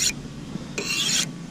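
A knife blade is drawn across the edge of a half-lowered car window glass to sharpen it, giving two close, gritty rasping strokes, a short one and then a longer one, with no talking.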